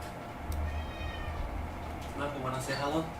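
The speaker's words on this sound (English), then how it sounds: "His name is Muffin, a male cat" A male cat gives a couple of clear meows close to the microphone, heard under and between a person's speech indoors.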